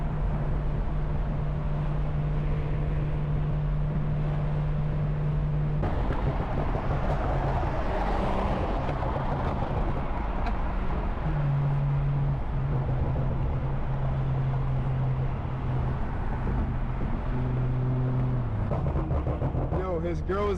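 A BMW M340i with a B58 engine drives through Midtown Miami at night, its engine holding a steady low drone that rises and shifts in pitch several times, with voices talking over it.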